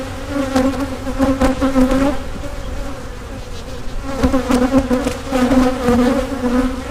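Honeybees buzz in a dense, steady drone while a beehive is being split, the swarm close and continuous with swelling pulses of intensity and no talk over it.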